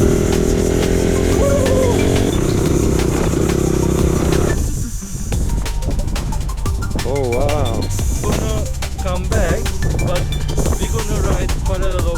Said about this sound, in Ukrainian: Прогріваємо байки, знімаємо їдемо.